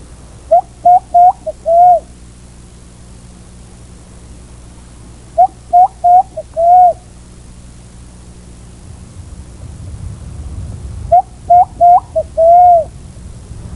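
A man whistles an imitation of the pomba margosa dove in three spaced phrases, each a run of short coos ending in a longer falling note, clear and close over a quiet background.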